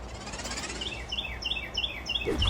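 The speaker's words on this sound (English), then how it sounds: "God, that bird is super loud." Repeated high, bright bird chirps ring out in quick bursts over a steady low hum, fairly loud and close.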